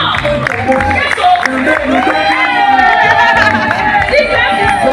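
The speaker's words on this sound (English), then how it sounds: "A round of applause for her." A crowd at a women's sports summit claps and cheers loudly with whoops, while music with sustained tones plays and voices carry throughout.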